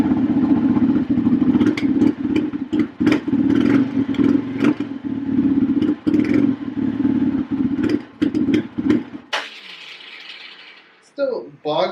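A Polaris Outlaw 500 ATV engine runs cold and close, a loud rattling idle with blips of throttle and a slight bog, then cuts off near the end as a few other sounds follow.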